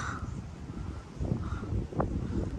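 A crow caws a few times outdoors on an island against soft wind noise and rustling, the calls fairly close and brief.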